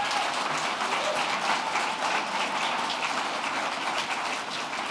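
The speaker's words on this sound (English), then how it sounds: "I think they deserve a round of applause." A crowd applauds young people at an Indigenous community talk, steady dense clapping filling the whole stretch like heavy rain, loud and continuous without pause.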